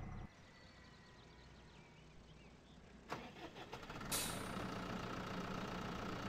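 A tractor engine in Farming Simulator 2013 starts up with a burst of cranking and then settles into a steady idling rumble, fairly quiet throughout.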